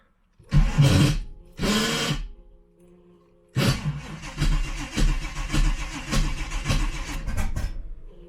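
A small-block Chevy V8 in a Camaro with FiTech fuel injection and a turbo cranks in two loud bursts, pauses, then cranks again with rough, uneven chugging that almost catches, close and loud.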